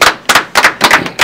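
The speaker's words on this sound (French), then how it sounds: "Bien dit, ça s'applaudit." A handful of people clapping in a radio studio setting: five close, loud bursts of applause in an uneven rhythm, brief and alone with no talk.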